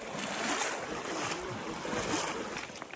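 Steady wash of moving water and wind as someone wades through a cold river in Rajaji National Park forest, a broad continuous splashing rush with no speech.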